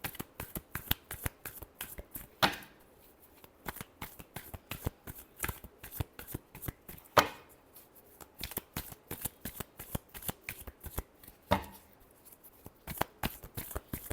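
Tarot cards being shuffled in a reading, a long run of rapid crisp riffling clicks with a few louder card bridges spaced several seconds apart, close and without talk.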